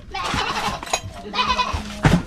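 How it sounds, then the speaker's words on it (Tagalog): A goat bleats several times, close and fairly loud, with quavering calls, mixed with people talking nearby outdoors on a rural property. "Kambing."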